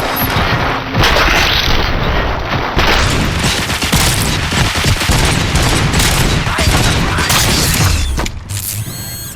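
Loud, dense gunfire and mechanical clanking in the Robocop: Rogue City video game, continuous rapid shots and heavy booms that cut off abruptly near the end.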